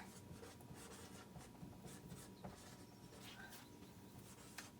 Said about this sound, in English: I'm going to write it here.